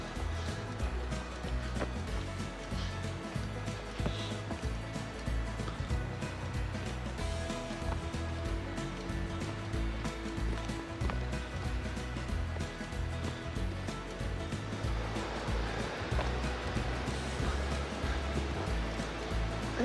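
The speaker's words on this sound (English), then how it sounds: "the sound of the water coming down, the rapids that we're passing here" A steady, full rush of river rapids flowing nearby, constant churning water noise with no pauses.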